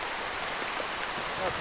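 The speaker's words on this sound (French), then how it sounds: "Je crois qu'il pleut, hein." Rain falls steadily during a storm on a fishing outing, a constant soft hiss of drops with faint wind, and a voice murmurs briefly.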